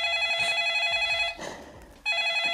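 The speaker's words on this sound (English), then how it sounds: "Oh, that was a phone in the background." A telephone rings in the background with a steady electronic bell tone. It sounds in two bursts separated by a short pause, fairly clear, with no speech over it.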